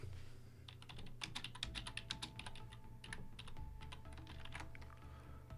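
Code typed on a computer keyboard, a close, fast, uneven clatter of key presses in short bursts with brief pauses, quiet and with no speech.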